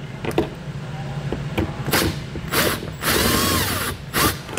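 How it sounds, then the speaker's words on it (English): Power drill backing screws out of a 2021 Chevrolet while fitting a Roadmaster Direct-Connect base plate, several short whirring bursts with clicks and pauses between them, close and fairly loud, no voices. "There are 4 more screws here along the inside edge going down to the bottom. We'll use the same size bit to remove those."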